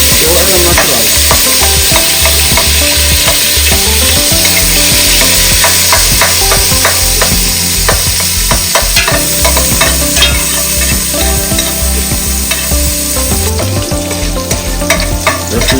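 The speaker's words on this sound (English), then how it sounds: "Fry the sardine up." Sardines fry in a pot with sausage and sazon-seasoned rice, giving a loud, constant sizzle broken by frequent scraping clatters of a spoon stirring through the food.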